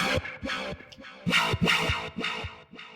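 A gritty, buzzing synth growl bass made with the Malstrom synth in Reason 12 plays in short rhythmic bursts, swelling and cutting off in a choppy pattern, loud and alone, without echo.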